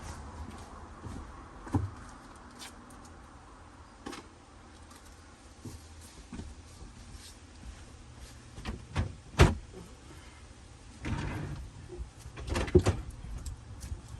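A cutlery drawer in a Sprinter camper van kitchen is handled, with scattered sharp clicks, knocks and a few metallic rattles of varying loudness against a quiet background.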